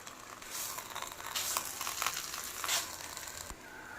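A pizza base fries lightly in oil in a pan, giving a steady, close sizzle with soft crackling swells and a few faint handling clicks.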